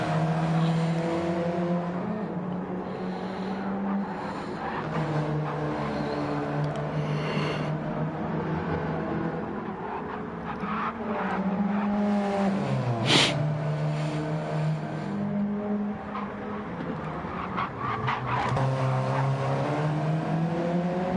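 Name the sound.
race cars accelerating in online racing game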